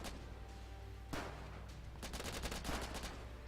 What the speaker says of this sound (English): As you can see, the AI is responding just by bombarding it.